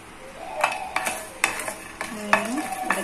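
Garlic dry roasting in a pan while being stirred for idli podi, giving close, irregular scraping and clinking strokes of the spoon against the pan over a faint sizzle.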